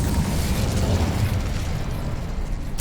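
Incendio fire spell cast in the video game Hogwarts Legacy, a steady loud roaring whoosh of flame with crackling bursts that carries on throughout, ending in a brief bright crackle.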